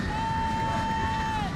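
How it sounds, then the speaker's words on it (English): A stadium crowd roars in the video game NCAA Football 2025 during South Dakota at Southern Illinois, a continuous cheering wash with a sustained tone running over it. "Crowd jolting back to life."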